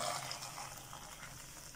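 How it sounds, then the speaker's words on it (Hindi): Boiling water poured into a pot of black chickpeas cooking for handi chanay, a soft, steady watery rush that runs alone for the short stretch at low level. "अब मैंने खोलता हुआ पानी इसमें डालूंगी गरम"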